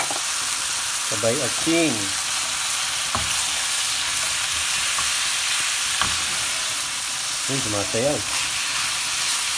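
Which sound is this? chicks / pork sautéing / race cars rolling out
pork sautéing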